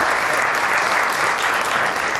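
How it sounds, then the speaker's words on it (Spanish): Steady, dense applause from a large audience at a book presentation, loud and continuous throughout without any break. "un fuerte aplauso, por favor"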